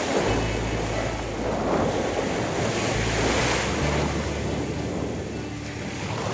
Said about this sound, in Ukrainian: Отакі сьогодні хвилі і вітер